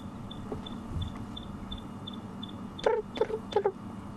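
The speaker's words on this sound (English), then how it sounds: "That is a Sterling's wren warbler." A Stierling's wren-warbler repeats a high, thin beep at a steady quick pace, followed by a few louder, sharper chirping notes near the end.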